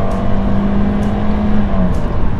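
A car engine revs hard in first gear in manual mode, a steady loud drone with a rising tone that drops briefly as the gear changes before 6000 rpm, with no voices.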